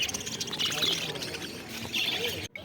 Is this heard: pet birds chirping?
yes